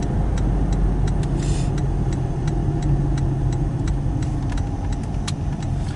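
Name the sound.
car driving through town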